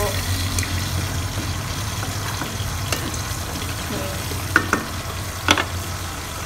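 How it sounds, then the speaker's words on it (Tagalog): Food frying in a pan while a vegetable pakbet dinner cooks, giving a steady close sizzle and hiss with a few brief clinks of a utensil against the pan. "tapos yung pinirito, malapit na rin maluto"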